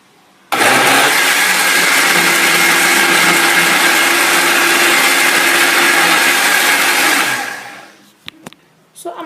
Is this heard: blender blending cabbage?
yes